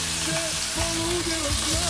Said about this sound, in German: da gebe ich Öl rein und brate da vorab mein Hähnchen drin an